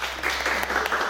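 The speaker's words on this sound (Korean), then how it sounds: "우리 가장 아버지들에게 박수 한번 보내십시오" Congregation at a church Sunday service clapping for fathers, a brief burst of dense, continuous applause filling the room under a low steady hum.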